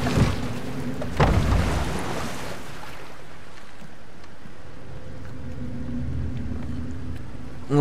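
A steady low rumble of a boat moving through water in the video game God of War, with a broad wash of engine and wave noise that swells briefly early on and then holds even.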